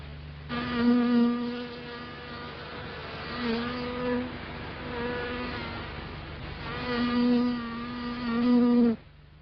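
An Australian honeybee worker buzzes close up while gathering pollen from a flower, a steady droning whine that swells and fades in pitch as she shifts about, with brief pauses in the hum.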